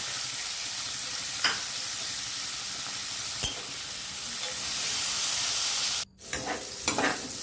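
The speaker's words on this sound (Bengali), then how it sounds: "বিনস ভাজা হয়ে গেছে, তুলে নিচ্ছি।" Steady sizzling of beans frying in a pan, with a few clinks of a utensil stirring and a brief pause before the sizzle resumes.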